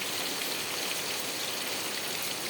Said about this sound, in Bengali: বৃষ্টি হয়ে যাচ্ছে